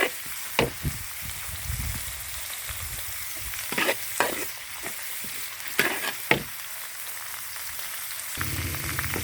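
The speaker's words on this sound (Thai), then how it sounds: "นี่ผัดเตาถ่านนะคะ เกียวให้หอมก่อนเก" Garlic stir-frying in a wok over a charcoal stove, a steady broadband sizzle broken by several sharp scraping strokes of the spatula, close and fairly loud, with no talking.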